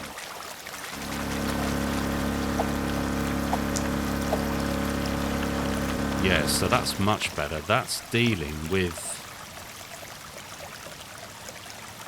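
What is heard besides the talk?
water pouring out of a drain pipe in the video game DrainSim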